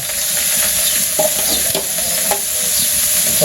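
Leafy greens frying in oil with cumin and green chili in a wok-style pan, a steady close hiss with a few soft stirring scrapes and clatters.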